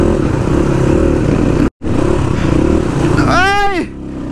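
A motorcycle engine drones loud and steady during a wet mountain ride toward Manang, with wind rush and clatter, one brief dropout, and a sharp rising whine near the end.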